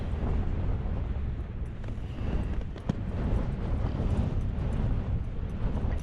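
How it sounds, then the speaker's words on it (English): Strong wind on the summit of Helvellyn buffets a tent during a wild camp, a steady loud roaring rumble with gusty surges and flapping thumps close to the microphone. "I hope that wind doesn't get too strong"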